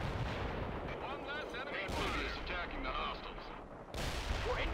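Gunfire and explosive blasts in the Soviet Assault campaign of the strategy game World in Conflict, dense rumbling booms and crackling shots layered under a voice and game chatter.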